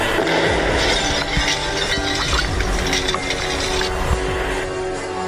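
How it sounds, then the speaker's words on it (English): A bighorn sheep repeatedly charges a vehicle and shatters its headlights, giving loud close impacts with glassy cracking and clinking in a rough, repeated rhythm. "A determined big-horned sheep took on a vehicle, repeatedly charging to shatter its headlights"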